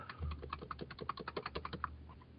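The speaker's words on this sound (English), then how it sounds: "let's just type that in." Quick run of crisp keystrokes on a computer keyboard, a dozen or so close, evenly spaced clicks in a brief burst.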